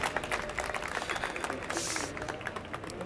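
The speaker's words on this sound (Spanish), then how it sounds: "ese fuerte aplauso me dio un ánimo" Loud, dense applause from a conference audience at a CPMX4 event, a continuous wash of many hands clapping close and sustained throughout, with a brief whoosh of noise midway.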